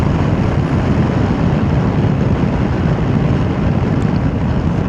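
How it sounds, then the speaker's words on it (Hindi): Strong, roaring wind buffets the microphone steadily on a high mountain pass in Himachal during a motorbike ride, a loud unbroken rush with no voices. "बड़ी भयंकर हवा चल रही है।"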